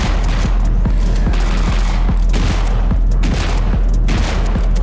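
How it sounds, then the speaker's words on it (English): In a video game, a shotgun blasts repeatedly in a rapid, dense volley of booming shots over a loud, constant game soundscape. "Left trigger is the shotgun."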